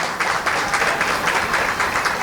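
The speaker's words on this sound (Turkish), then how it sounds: "Bir alkışlar alalım Mehmet Başkanımıza" An audience applauds Mehmet Başkan at the opening ceremony of a handicraft exhibition in Haliliye, a steady, dense wash of many clapping hands that keeps going for the whole stretch without talk.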